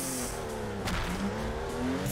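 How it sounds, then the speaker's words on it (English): Drift car in the Torque Drift video game, a Nissan 350Z with a 2JZ swap, running low enough to scrape the ground; a steady loud engine drone with scraping and tire noise, no talking. "We need to raise the car up because we are just scraping everywhere right now."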